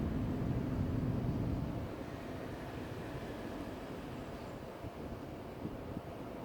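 A firefighting helicopter flies during a wildfire suppression drill near Andong, its low, steady rotor and engine rumble strongest for the first two seconds, then settling into a quieter, continuous drone with no talking.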